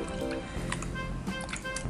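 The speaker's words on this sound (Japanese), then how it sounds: "押し洗いでしていきます" A cloth mask is pressed down in a basin of water, giving soft wet squishes and drips in a short close sequence.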